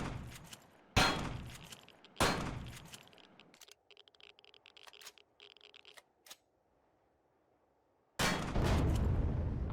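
Several loud shotgun blasts go off in Empyrion Galactic Survival, heavy booming shots spaced a second or two apart. A quieter stretch of clicking, mechanical game sounds sits between the first volleys and the final burst.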